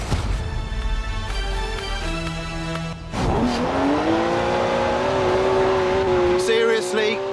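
BMW 1M with a 3-litre twin-turbo straight-six in Forza Horizon 4, revving hard and then climbing through a sustained, loud engine note with squealing tyres as it slides sideways, all under music with no talk.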